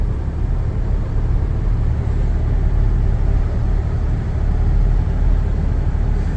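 A Ford Bronco Raptor climbs a snowy road, producing a steady, loud low rumble of engine and tyre noise that holds constant throughout with no talk.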